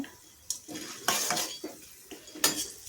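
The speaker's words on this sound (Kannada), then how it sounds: "ಈ ಮೂರು ಪದಾರ್ಥಗಳು ಕೆಂಪುಗಾಗೋವರೆಗೂ ಹುರ್ಕೋಬೇಕಾಗುತ್ತೆ ನೋಡಿ ಕಡಲೆ ಬೀಜ ಕಡಲೆಬೇಳೆ ಬೇಳೆ ಇಲ್ಲಿ ಕೆಂಪುಗಾಗಿದೆ" Peanuts, chana dal and urad dal dry-roasting in a pan for beetroot chutney, heard as several sharp scraping and clinking stirs of a spatula against the metal, close and fairly loud, with a faint sizzle between strokes and no talking.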